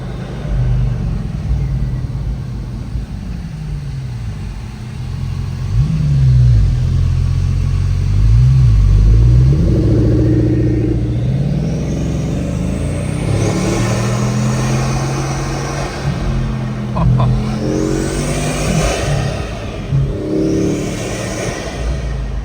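Bugatti Mistral engine and air intakes roaring loudly from close behind the occupants, rising through several hard accelerations with shifting engine tones after a hairpin bend, no talk over it.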